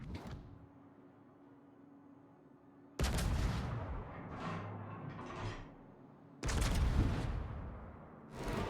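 Main battery of the USS Tennessee battleship firing in World of Warships, heard as two loud, heavy gun blasts a few seconds apart. Each is followed by a rumbling, fading tail over quieter ambient game sound.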